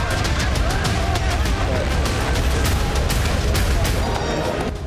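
A dense barrage of sharp blasts and booms from bombardment in Gaza rolls continuously, loud and rumbling, with repeated cracks layered over deep thuds.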